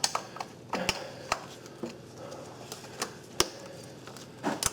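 Bolts are fitted and seated into brackets on a Volkswagen Jetta VR6 engine, giving quiet, sparse metallic clicks and taps spaced irregularly against a faint workshop background.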